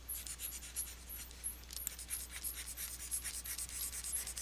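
Eraser rubbed back and forth on a pencil drawing on paper, giving quick soft scratchy strokes in a steady rhythm, close and quiet, with no one speaking.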